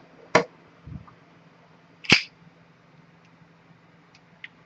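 A Bersa Thunder 380 pistol is unloaded in a quiet room: a sharp metallic click, a soft clack, then a second crisp click of the slide, followed by a couple of faint ticks.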